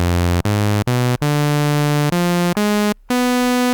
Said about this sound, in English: you can really hear the movement in the actual oscillator